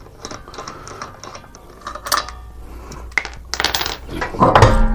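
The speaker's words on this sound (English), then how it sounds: "just remove all five lug nuts" Lug nuts come off the front wheel of a 1999–2004 Honda Odyssey in a garage: a string of metallic clicks, clanks and ratcheting taps, close and moderately loud, building toward the end, with no talking.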